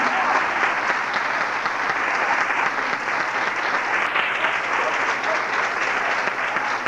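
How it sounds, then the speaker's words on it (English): Audience applause fills the room as a crowd claps steadily and fairly loudly, a dense continuous patter without a break for several seconds. "You have to clap for them"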